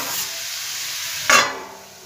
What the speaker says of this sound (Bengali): দিয়ে ভালোভাবে নেড়ে নেব মশলাটা, নুনটা আর এটা হলুদটা দিয়ে